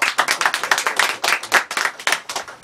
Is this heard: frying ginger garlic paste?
no